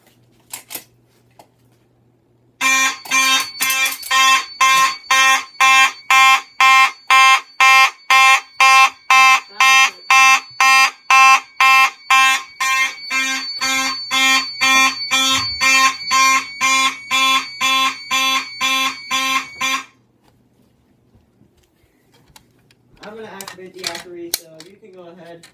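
A Simplex mechanical horn fire alarm system blares after a pull station is pulled, sounding loud rapid repeating honks for about seventeen seconds before stopping, with faint voices briefly afterward.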